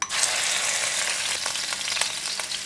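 Minced pork hits a pan of onion oil and sizzles loudly at close range, a dense continuous frying hiss with a few crackles and faint stirring.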